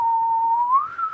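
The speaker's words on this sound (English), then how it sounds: "Do the whistling." A person whistles one sustained, clear tone that drifts slightly upward near the end. The whistle is close and sounds alone, with no talking.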